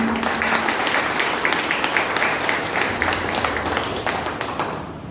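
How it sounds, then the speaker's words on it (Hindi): Loud, sustained applause from an audience at a health talk, dense clapping filling the whole stretch with a faint voice underneath. "तो मैं चाहूंगा जोरदार तालियां होना चाहिए अपने स्वास्थ्य के लिए।"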